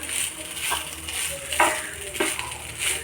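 Onion rice being stirred and mixed in a pan, with soft scraping strokes over a faint sizzle, a few louder stirs standing out near the end, no talk.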